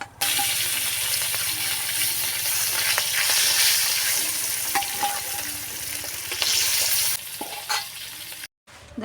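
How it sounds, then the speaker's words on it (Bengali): More rohu fish pieces fry in hot oil, a loud, close sizzle mixed with repeated scraping and clinking of a utensil in the pan, then cutting out briefly just before the end. "আর যেগুলো আছে এগুলো ভেজে নেব এখন।"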